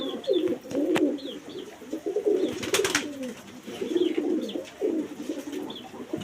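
Native pigeons cooing, with soft, repeated throaty coos rising and falling in overlapping phrases at close range, plus a few faint chirps and clicks in the background.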